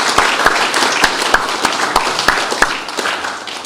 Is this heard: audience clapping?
yes